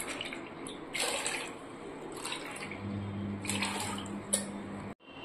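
Water pours steadily from a cup into a pot of washed lentils (dal), a close gushing splash in several pours that ends abruptly, with no talk.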